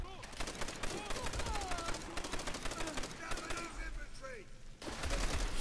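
Continuous automatic gunfire with rapid, dense bursts and overlapping shots in a Call of Duty: World at War campaign battle, close and loud, with brief pauses and a heavier burst at the end.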